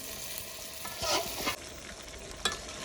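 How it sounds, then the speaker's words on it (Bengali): Potatoes sautéed and stirred in a ground spice paste for a country chicken curry: a quiet, steady sizzle with scraping stirs of a spoon against the pan, one louder burst of frying noise midway, and no talking. "এখন আলুটা দিয়ে ভালোভাবে কষায় নিচ্ছি"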